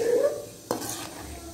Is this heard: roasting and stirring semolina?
yes